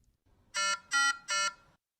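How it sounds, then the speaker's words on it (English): A medical oxygenator module sounds its alarm after the oxygen gas flow is disrupted: three identical loud, harsh electronic beeps in an even rhythm, clean and close with silence around them. "The module gives you audio and visual alerts when alarm limits have been exceeded."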